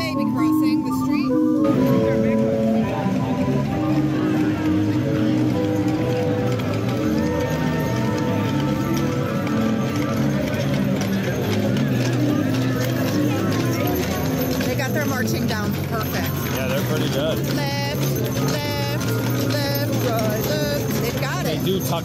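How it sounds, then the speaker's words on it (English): Small ponies' hooves clip-clop on a street in a steady trotting patter, with larger horses following behind, heard under continuous nearby talk. "They're little ponies trying to be big horses."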